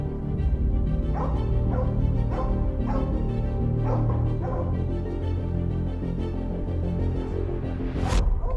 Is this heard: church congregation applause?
no